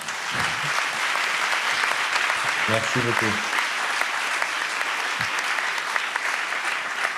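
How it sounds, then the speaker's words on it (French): Conference audience applauding a speaker at a national congress of advanced practice nurses in psychiatry and mental health, a steady wash of many hands clapping throughout, with a voice briefly speaking over it. "je pense qu'on peut vous applaudir très fort"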